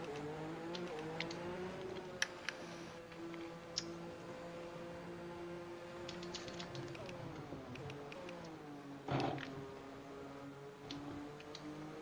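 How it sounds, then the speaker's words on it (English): Ferrari Formula 1 car engine heard from an exterior view in the F1 2021 racing game, a faint, steady harmonic drone with shifting pitch and occasional clicks, plus a brief louder burst partway through. "This Ferrari sounds well good in the exterior view."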